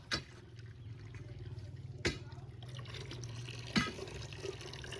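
Steady running water, a continuous broadband wash like a stream from a pipe, with a few sharp knocks and faint background voices.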